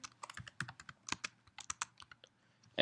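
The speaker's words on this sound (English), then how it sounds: "And then of course you'll type your email address." Clicky keystrokes on a computer keyboard as an email address is typed into a real estate listing form, irregular bursts of taps, close and quiet, no voices.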